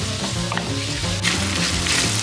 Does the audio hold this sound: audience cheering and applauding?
no